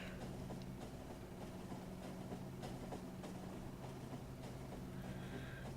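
Trains running in a factory-building video game hauling petroleum gas from an outpost, a faint continuous rolling rumble with light rhythmic clatter throughout, no talk.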